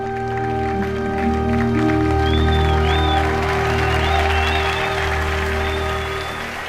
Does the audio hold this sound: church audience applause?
yes